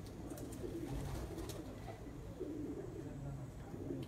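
Racing pigeons settling down outdoors in Punjab during a long-distance flying competition, soft low cooing repeating over a steady background murmur, faint and close, with voices talking nearby.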